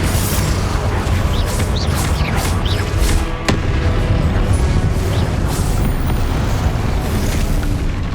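A Confringo blasting spell goes off in the game Hogwarts Legacy, a loud, continuous booming explosive roar with a sharp blast near the middle, layered over dense game combat noise.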